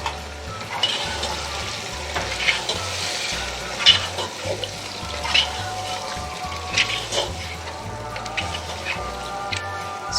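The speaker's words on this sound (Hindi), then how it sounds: "इसको 2 से 3 मिनट और भूनेंगे हम।" Masala with six to eight spoons of yogurt frying in a pan, a soft, crackly sizzle with scattered pops, fairly quiet and steady over a low background tune.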